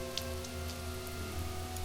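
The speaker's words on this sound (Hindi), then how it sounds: "बारिश अब भी हो रही थी" Rain falls steadily at night outside a hostel room window, a soft continuous hiss with scattered faint drop taps over a low, constant hum.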